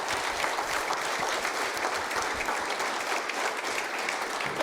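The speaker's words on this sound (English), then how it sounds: "Let's give them both a round of applause" An audience at a policing prevention event applauds its speakers, a dense, even round of clapping that fills the whole stretch at steady loudness with no talk over it.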